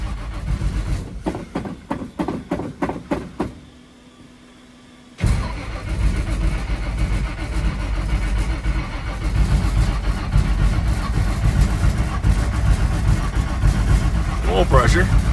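An old carbureted car engine cold starting: several short cranking bursts, a brief pause, then the engine catches and settles into a loud, steady rough idle close by, with voices now and then.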